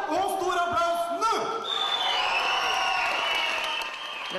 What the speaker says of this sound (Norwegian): Velkommen og stor applaus nå!